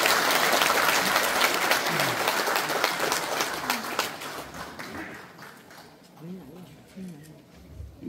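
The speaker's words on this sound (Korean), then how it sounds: "다시 한번 이수성 전 총리님께 박수 부탁드리겠습니다" An audience at a conference in a National Assembly members' hall applauds a former prime minister, with dense clapping that is strong at first and then thins and fades while a speaking voice comes in near the end.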